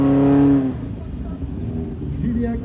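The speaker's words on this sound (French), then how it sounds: "Julien Corneliza au départ avec Evan Mellon sur une Mitsubishi Lancer." Mitsubishi Lancer rally car engine at the start of a special stage of the Rallye du Chablais in Champéry, Switzerland: a steady harmonic engine note that fades into a rumbling drone, with a voice faintly present.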